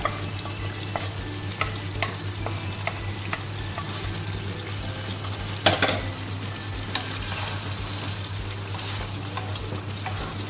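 Chicken dopiaza with fried onions sizzles in a pan while being stirred, a continuous frying hiss with repeated scraping and clinking strokes of the spoon, close and alone.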